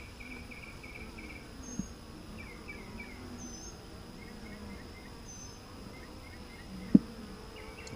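Honeybees drone in a steady, low, faint hum at a hive, with occasional higher buzzes of single bees passing and a brief knock, no talk.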